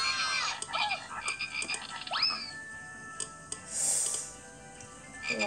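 Frogs croak in a quiet outdoor setting, scattered croaks and chirps at moderate distance, with a brief hiss of background noise midway.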